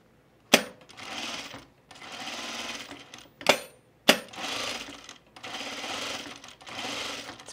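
A home sewing machine stitches pajama bottoms in several bursts of rapid whirring, separated by short pauses and sharp clicks as the work is adjusted, loud and close.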